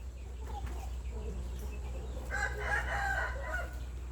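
A Burmese rooster crows once at a farm, a clear mid-pitched call rising after a quiet start and carrying over a steady low hum of background noise.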